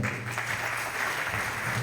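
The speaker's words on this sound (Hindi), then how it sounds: "उनके लिए जोरदार तालियां।" Applause from a crowd at a commemoration event in Kannauj honouring Bhagat Singh, steady and moderately distant, with a faint hum of the venue underneath.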